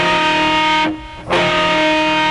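A heavily distorted electric guitar chord from the chorus riff of a rock song sustains loudly, breaks off for a moment, then rings again, played alone.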